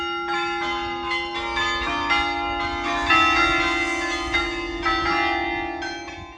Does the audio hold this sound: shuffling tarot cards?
no